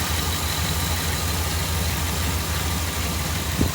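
The engine of a 1993 Dodge Dakota runs on gas vapor alone, idling with a steady, close, low rumble and a faint knock that holds level, with a small bump near the end.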